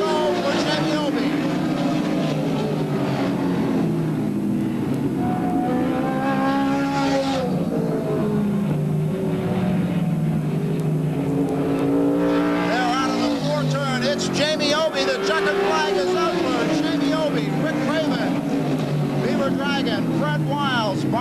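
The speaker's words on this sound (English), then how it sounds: "One lap to go for Jamie Obie." Race cars roar around the oval at Wiscasset Speedway in 1988 during a heat of the Motor Supply Coastal 100. Engines drone steadily and swell and fade as the cars pass, under continuous announcer commentary.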